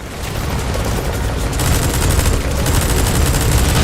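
Dense, continuous crackle of rapid gunfire and bursts in Metal Gear Solid 5, loud and unbroken, with heavy low-end booms from exploding drum cans mixed into the chaotic barrage.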